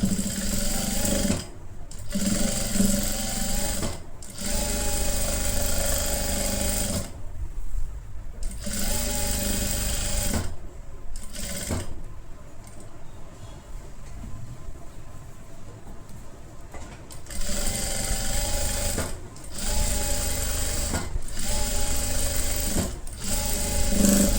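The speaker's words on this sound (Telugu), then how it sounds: "ఇలా తీసి మళ్ళీ ఎడ్జ్ నుంచి కూడా కుట్టుకుంటూ రండి." A sewing machine stitches fabric from the edge of a halter neck kurti in repeated close, rapid whirring bursts, separated by brief pauses and a longer quieter stretch mid-way.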